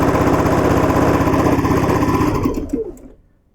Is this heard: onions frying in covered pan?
no